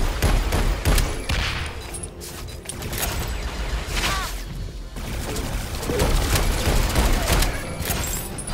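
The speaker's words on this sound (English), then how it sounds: "shotgun." Rapid shotgun blasts and heavy gunfire in the PS4 co-op shooter Alienation, dense overlapping bangs and mechanical clatter filling the whole stretch, loud and continuous with no gaps.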